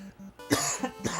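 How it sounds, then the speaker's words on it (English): A person coughs harshly a few times and clears their throat, close to the microphone, during a retro gaming stream of Final Fantasy on NES, with a faint pulsing game tone underneath. "Again, I'm sorry for the cough."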